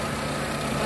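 A Mitsubishi Jolie car air conditioner with a new compressor and two evaporator units runs in a steady, smooth, low hum, continuous and close, with no talk over it.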